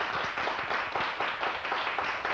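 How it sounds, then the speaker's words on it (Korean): A studio audience at a Korean TV health talk show applauds, a dense steady patter of many hands clapping together at moderate volume for a couple of seconds, with no voices over it. "오늘 도움 말씀 주신 김형동 교수님께 감사의 박수를 보내드리겠습니다"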